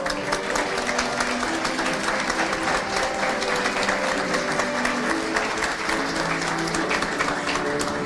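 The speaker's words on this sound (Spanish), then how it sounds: "aprovecho para pedir por favor un aplauso a quienes están acá presentes" At a graduation ceremony for a diploma course in radio, television and digital media, an audience breaks into sustained applause, a dense, even clatter of clapping lasting throughout.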